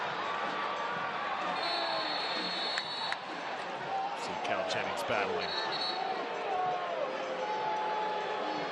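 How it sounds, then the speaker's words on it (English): Stadium crowd noise at a professional soccer match between Tampa Bay Rowdies and Colorado Springs Switchbacks FC, a steady roar of fans with whistles and shouts directed at the officials, running continuously beneath a commentator's voice. "That crowd letting the officials have it"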